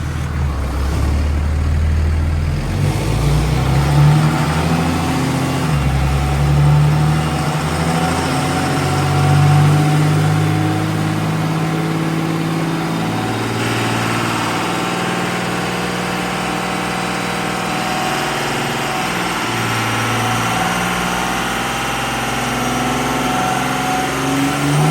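A Cummins diesel-swapped OBS Chevy truck runs on a dyno, its engine a loud, continuous rumble with pitch that rises and falls as it revs, close and steady for the whole stretch with no talking.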